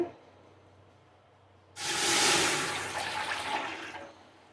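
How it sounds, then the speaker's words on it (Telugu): Water is poured into an already heated pot and erupts into a loud, rushing hiss of steam that starts abruptly and slowly fades over a few seconds. "గిన్నె వేడైంది వాటర్ పోస్తున్నాను"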